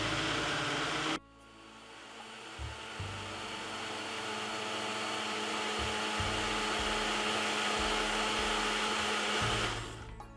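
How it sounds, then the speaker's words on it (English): A countertop blender whirs at full speed, blending a Caribbean strong back drink, a loud steady roaring whine that starts abruptly and stops near the end, with faint low thumps underneath. "we're gonna blend it for roughly 7 minutes until it come really fine"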